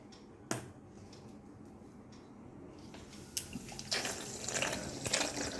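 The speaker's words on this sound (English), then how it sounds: "This is how the water passes from all those tanks." Water runs and trickles steadily through the tanks of a model wastewater treatment plant, with a sharp tap near the start and a louder, splashier surge building toward the end.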